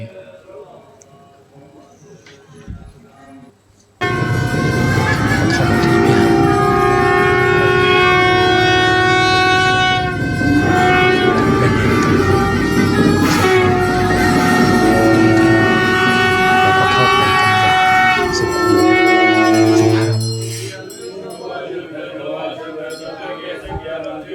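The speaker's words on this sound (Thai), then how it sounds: "ตอนนี้เสียงสวดมนต์ ก็คือเสน่ห์อย่างหนึ่งของ ศาสนาพุทธแบบทิเบต เราเริ่มจะได้ยินแล้ว เสียงสวดมนต์ มีเสียงเครื่องดนตรีด้วย" After a quiet start, a dense wall of Tibetan Buddhist prayer chanting rises with ringing, clanging instruments and long droning tones, continuing loudly before easing off near the end, in Ladakh, India.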